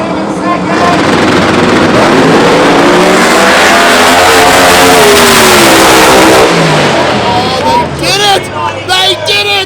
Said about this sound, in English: Hemi versus twin turbo Hemi